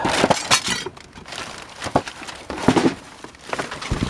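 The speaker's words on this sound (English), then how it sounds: "A lot of broken glass." Broken glass and scrap in a dumpster clink and crunch as it is rummaged through, with uneven bursts of rattling, crinkling and knocking and no talking.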